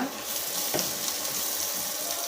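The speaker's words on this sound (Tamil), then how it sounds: "வெங்காயம் நல்லா வதங்கிட்டுங்க" Onions sautéing in a pan for a sundakkai vathal kuzhambu give a steady, close, hissing sizzle with faint stirring, no voices.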